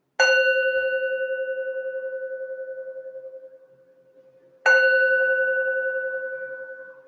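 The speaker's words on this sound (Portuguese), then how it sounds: "Eu vou fechar com aquele nosso sino do Orim, né?" Two clear strikes of an Orim bell, each ringing out with a bright metallic tone that slowly decays over several seconds; the second strike lands after a short near-silent gap, close and alone.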